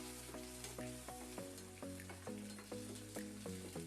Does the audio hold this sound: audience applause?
no